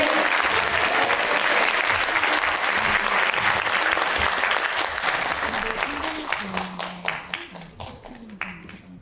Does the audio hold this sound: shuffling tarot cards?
no